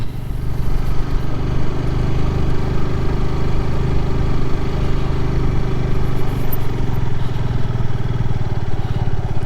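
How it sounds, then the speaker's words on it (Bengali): A Honda CBR sport motorcycle engine runs steadily throughout while riding on river sand in Manikganj, Bangladesh, a loud, continuous mid-pitched rumble with a gritty texture and no voices. "গরিবের অফ রোড বাইক হচ্ছে সিবিআর।"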